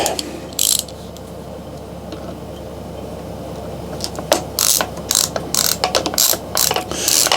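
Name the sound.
ratchet tightening a bolt on a bike seatpost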